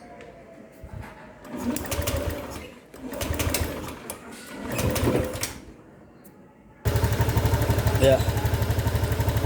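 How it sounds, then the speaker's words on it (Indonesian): Honda Beat motorcycle engine starting after several attempts, then settling into a fast, steady, buzzing idle close by; a voice speaks briefly at the start. "coba nyalakan motornya."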